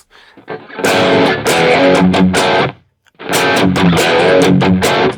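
Electric guitar chords through a Neural DSP Quad Cortex hall reverb ring out in two bursts with a short pause between, each strum trailing into a spacious, hall-like reverb wash.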